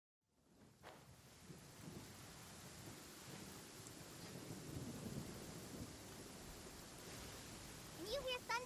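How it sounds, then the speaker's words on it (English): Thunderstorm ambience from the video game Genshin Impact: steady rain and low rolling thunder fill the scene throughout, with a brief tonal chime near the end. "When you hear thunder, it's best practice to stay away from tall trees."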